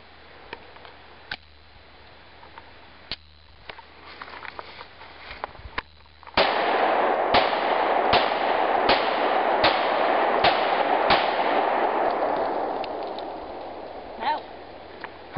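Rifle shots from a girl's first time shooting, a magazine fired in a string of sharp, loud reports about a second apart over a steady noisy bed, after softer scattered pops and movement.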